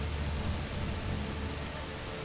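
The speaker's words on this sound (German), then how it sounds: "der Regen macht uns natürlich auch ein bisschen unsichtbarer" Steady rainfall in the video game A Plague Tale: Requiem, a dense, even hiss of drops pattering on surfaces, continuous and fairly close with no voices.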